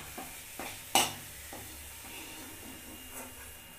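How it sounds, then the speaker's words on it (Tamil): Garlic cloves frying in a pan for a lentil chutney, a soft steady sizzle with a few scraping stirs and one sharper clatter, heard close but quiet, with no one talking. "பூண்டோட பச்சை ஸ்மெல் போகிற வரைக்கும் நல்லா மணக்கி எடுத்துக்குங்க"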